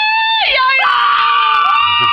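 Children scream and shriek together in a loud, sustained crowd chorus on a rainforest outing, high wavering voices rising and falling across the whole stretch with some shouting mixed in.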